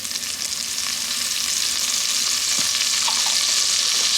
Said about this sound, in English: You're gonna saute that for a little bit.